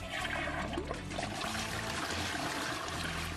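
A Stealth water-efficient toilet flushes 600 grams of miso paste using 0.8 gallons of water, giving a steady, fairly quiet rush of flowing water that runs evenly from start to finish.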